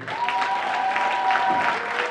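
Warm audience applause for a slam poet at a poetry slam in Reims, a steady dense wash of many hands clapping close and loud, with a faint tonal hum running beneath.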